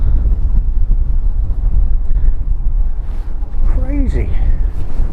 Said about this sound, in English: Where is this wind coming